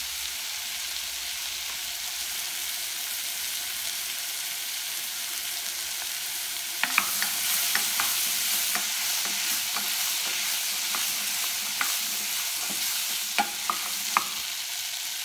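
Mushrooms and celery sauteing in a pan for coq au vin give a steady broadband sizzle throughout, with scattered stirring clicks and scrapes growing busier in the second half; no one speaks.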